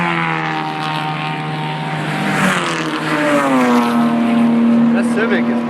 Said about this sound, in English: That Civic is pretty loud.